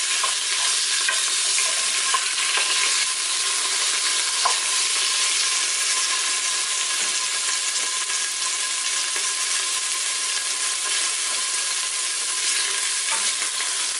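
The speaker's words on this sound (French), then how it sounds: "Remuez un peu pour que ça n'accroche pas." Beef searing in olive oil in a pan for bourguignon fills the clip with loud, continuous frying sizzle, broken only by faint occasional stirring scrapes, close up and without talk.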